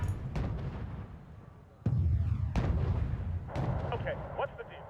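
Missile volleys firing in the Cold War strategy game Wargame: Red Dragon, set in a 1992 Second Korean War campaign, a few loud booming launches and blasts with a rumbling tail, under a voice.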